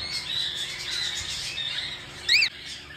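A six-month-old silver cockatiel hen with dark edge markings gives a short, shrill squawking call over steady background noise, with a sharper chirp near the end.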